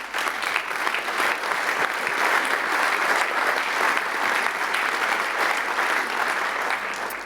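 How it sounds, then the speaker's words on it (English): Audience applause after ETH Zurich student presentations, a steady, dense wash of clapping from a large crowd that holds evenly for several seconds. "One applause again"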